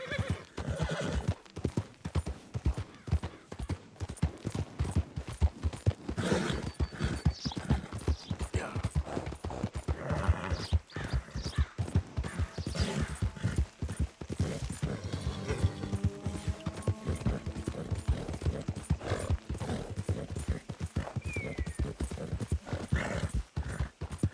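Horse hooves clip-clop in a steady rapid rhythm throughout a ride in the Red Dead Redemption 2 video game, with occasional neighs and whinnies mixed into the continuous trotting.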